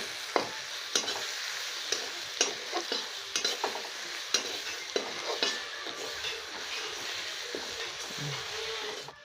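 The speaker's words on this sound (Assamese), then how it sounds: "এতিয়া আকৌ অকণমান ভাজি ল'ব।" Onions and garlic paste fry in a pan with a constant close sizzle, broken by repeated sharp scrapes and clinks from stirring at uneven intervals. No voices.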